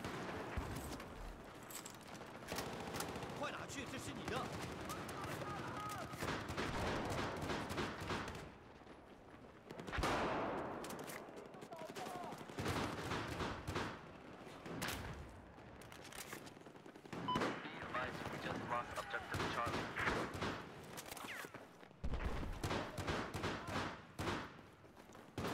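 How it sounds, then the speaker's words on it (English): M60 machine gun fired in a first-person shooter at Pearl Market, long loud bursts of rapid automatic fire broken by brief pauses, with booming explosions and other gunfire around it. "Dude, I love the M60."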